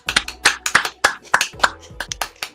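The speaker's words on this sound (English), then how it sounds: "Can I get a round of applause?" A small audience applauding at a live studio talk show, a short burst of uneven individual claps, close and fairly loud.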